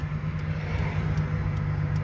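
A Toyota AE86 fitted with a 2JZ VVTi engine and W58 gearbox drives along, giving a steady, low, moderately quiet engine drone with no talking.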